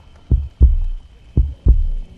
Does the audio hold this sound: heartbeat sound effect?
yes